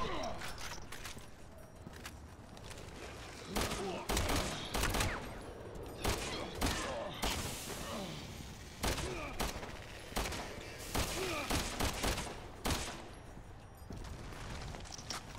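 Repeated bursts of gunfire in the Resident Evil 6 video game, sharp loud cracks coming in quick clusters with short gaps between, over faint background game sound and occasional voices.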